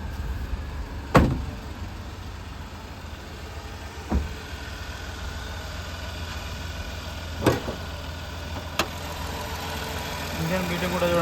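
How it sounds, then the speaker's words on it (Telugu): A 2017 Datsun Redi-Go petrol car idles with a low steady hum close by, broken by a few sharp clunks like a door or bonnet, while someone talks quietly. "ఇంజన్ బీటింగ్ కూడా చూడండి, సైలెంట్గా ఉంది."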